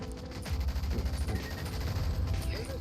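Explosions and gunfire in the Rogue Company shooter game, a dense burst of blasts and rapid shots rumbling continuously and loudly throughout.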